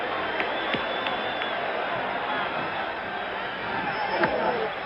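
Large stadium crowd at the 1977 World Series as Yankees fans pour onto the field after the win, a dense continuous roar of cheering and chatter with scattered louder shouts, steady throughout.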